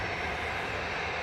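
An Airbus A320 airliner at Manchester Airport gives a loud, steady jet engine roar, broad and unbroken, with no voices.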